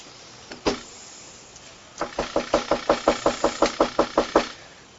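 Sheriff's deputies bang on a residence door: one hard, close bang, a short pause, then a rapid, evenly spaced run of about a dozen loud knocks.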